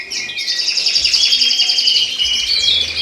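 Cock birds chirping steadily in flight cages inside an indoor bird room, a continuous bright chorus of overlapping tweets close by, with no talk.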